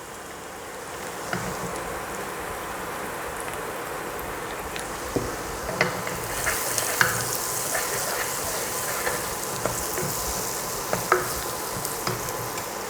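Garam masala powder sizzles and fries in oil in a pan for vegetable kurma, a steady close crackling hiss with occasional stirring scrapes and taps throughout.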